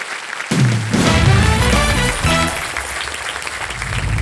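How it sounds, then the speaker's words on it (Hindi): Studio audience applauding Sidhu on the Baisakhi special of the Wheel of Fortune game show, a steady, full burst of clapping mixed with music that starts after a brief silence and carries on throughout. "ठोको ताली।"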